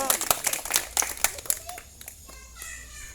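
Scattered hand claps from a group at a Christmas gathering, loud and uneven, mixed with children's voices, fading to quieter chatter toward the end.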